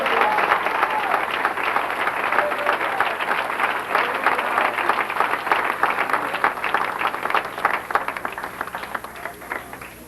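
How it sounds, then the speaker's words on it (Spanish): A church congregation applauds together, a dense and steady wash of many hands clapping that holds loud for about ten seconds before easing slightly at the end. "Denle un aplauso al Señor por favor."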